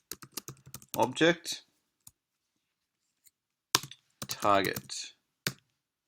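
Someone types on a computer keyboard in two quick bursts of clicky keystrokes, close and clear, with short spoken words between them and stretches of silence.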